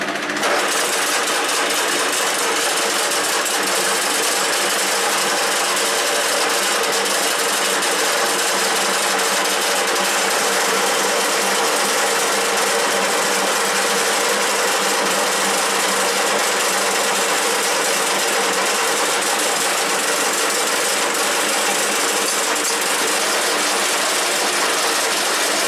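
A 1K62 metal lathe parting off an excess piece of nut stock gives a steady, loud mechanical whine and hum with a dense rattle, running unbroken throughout without talking.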